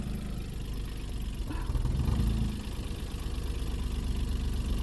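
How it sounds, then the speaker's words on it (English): A Smart Fortwo 451 MHD engine idles just after starting, a steady close low rumble with a brief swell early on before settling into an even idle. "So now start the engine."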